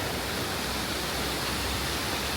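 Steady, dense rush of a waterfall heard from above in an urban ravine in Medellín, a constant broadband roar with no breaks and no voices.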